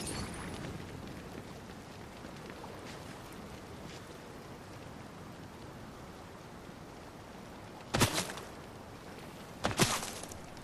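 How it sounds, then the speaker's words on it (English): Two sharp, loud gunshot cracks from a Fortnite match, one near the end and another shortly after, standing out over a steady rain-like hiss of background noise. "I think I just heard shots."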